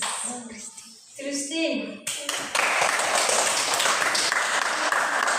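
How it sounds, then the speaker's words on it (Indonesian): After someone speaks briefly, a classroom of children bursts into steady, dense clapping that stays loud and continuous to the end. "Berikan tepuk tangan kepada Christine."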